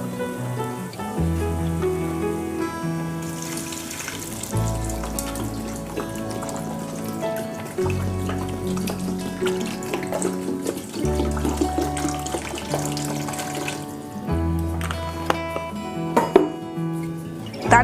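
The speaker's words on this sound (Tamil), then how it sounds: "இதில் வந்து ஒரு 3/4 பாட்டில் 800 ml தண்ணி சேர்க்க போகிறேன்." Water is poured into a pot of chicken dum biryani cooking on a dabara, a continuous splashing pour heard under loud background music.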